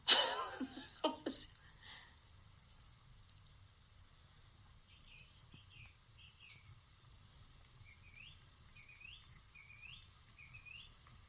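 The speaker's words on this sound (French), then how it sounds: "On entend les oiseaux, c'est que chez moi." Small birds singing outdoors at a home, a thin repeated chirping phrase about four times in a row, faint and distant after brief laughter at the start.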